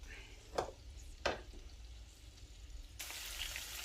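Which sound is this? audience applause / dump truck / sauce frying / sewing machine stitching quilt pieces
sauce frying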